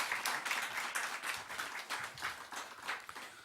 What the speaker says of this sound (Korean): 박수를 한번 우리 환영해 주시고요